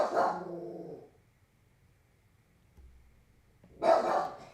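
A dog barks and growls nearby indoors, one gruff burst, a pause of near silence, then another loud bark, with no talking.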